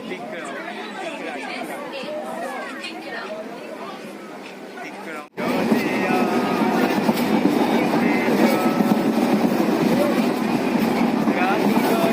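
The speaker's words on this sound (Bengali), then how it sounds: "আমাদের ট্রেন দীঘা স্টেশনে প্রবেশ করছে" Local train running from Santragachi and pulling into Digha station, a steady rumble and clatter of wheels on rails, loud and close, with chatter from passengers inside the carriage throughout.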